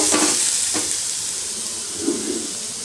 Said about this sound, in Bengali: আর এখানে হচ্ছে সয়াবিন আলু ভাজা করছি, যে সয়াবিনের তরকারি করব।